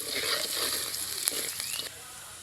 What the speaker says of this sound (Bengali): একটু পেঁয়াজ কুচি দিয়ে দিচ্ছে, হালকা একটু ভেজে নিতে হবে।